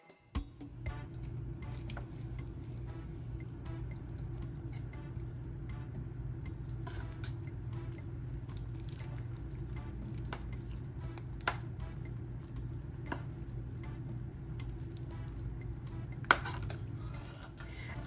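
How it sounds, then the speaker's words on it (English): Angus beef and broccoli soup simmering on low heat in a pot, giving a steady, quiet bubbling hiss broken by a few faint drips and light clicks throughout. "I'm going to turn this down to low and I'm going to allow it to just simmer."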